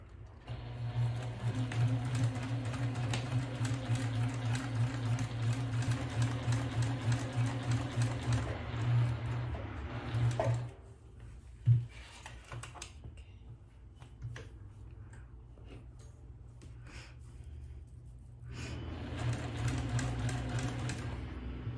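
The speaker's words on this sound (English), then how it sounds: "So let's go to the sewing machine." A sewing machine runs steadily for about ten seconds while stitching a purse, stops with a brief clunk and quiet handling noises, then starts stitching again near the end.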